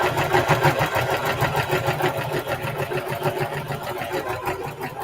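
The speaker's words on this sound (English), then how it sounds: "right now I am sewing the pocket" A sewing machine stitches a pocket onto a duffle bag panel, a steady close whirring run with a fast rhythmic chatter that holds for the whole stretch without a break.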